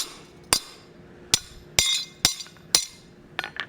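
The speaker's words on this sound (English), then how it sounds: "Might have to hammer this down once" A steel strike plate is hammered on an anvil while forging a hammer, giving six sharp ringing metallic blows spaced unevenly, loud and close, with a faint clink near the end.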